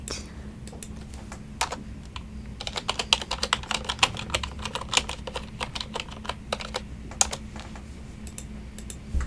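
Typing on a computer keyboard at a library desk, in irregular bursts of close, crisp key taps against a low hum.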